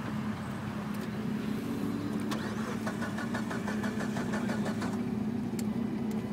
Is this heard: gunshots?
no